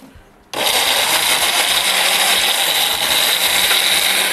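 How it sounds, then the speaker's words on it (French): A blender runs at full speed, blending guava for a fruit juice mocktail, starting abruptly after a quiet moment and holding a steady, loud whirring roar to the end. "Dans un blender, dans un mixeur"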